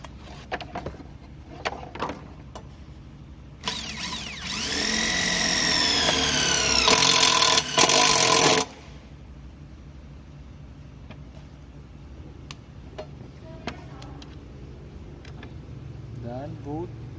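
Makita TD0101F impact driver fastening a screw into metal, a loud rising motor whine with hammering impacts lasting about five seconds, with quiet clicks and handling before and after.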